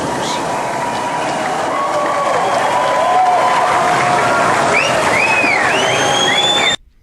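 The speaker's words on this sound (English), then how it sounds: "They cheer for the end of the fireworks." A large crowd at the end of a fireworks show cheers, applauds and whistles in a loud, sustained roar that swells midway and then cuts off abruptly.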